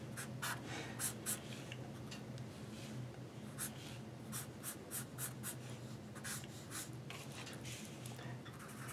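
Pencil or pen drawing the lines of a stick figure on paper, a steady run of close scratchy strokes with rhythmic repeated swipes, continuous and moderately loud with no talking.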